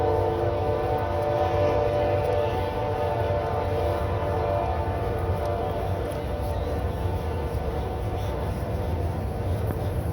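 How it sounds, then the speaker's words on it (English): A train rolls past on parallel railroad tracks in the woods, a loud, continuous rumble and rail roar filling the whole stretch without letup. "Here's a train coming."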